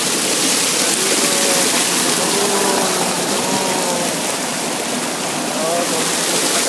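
A waterfall at a mini golf course rushes in a loud, constant broadband roar of falling water, with a faint voice barely audible beneath it.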